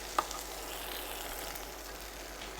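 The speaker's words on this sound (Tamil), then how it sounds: "முடக்கருத்தான் கீரையை போட்டு வறுத்துருவோம்." Mudakathan keerai greens fry in a pan with a faint, steady hiss and sizzle, close but quiet, with a small tap of a utensil near the start and no talking.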